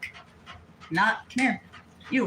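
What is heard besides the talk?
dog panting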